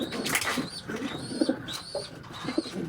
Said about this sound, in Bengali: স্বাভাবিকভাবে একটা কবুতর আমি আমার হাতে ধরলাম বা হাতে রাখলাম, একটা কবুতর।